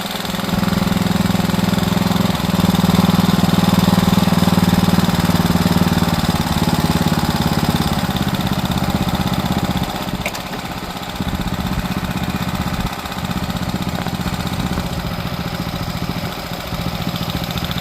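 A Hangkai 6 HP four-stroke outboard motor, new and being broken in, idles nearby with a steady, low, chugging hum that dips slightly partway through but keeps running throughout.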